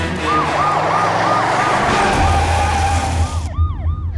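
An ambulance siren wails in repeated rising and falling sweeps over a loud rumbling engine and traffic noise. The sweeps drop away briefly and return near the end.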